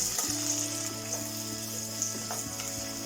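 Small onions and green chilies frying in coconut oil, a steady close crackling sizzle that runs throughout, with faint clicks and a low background hum, and no voices.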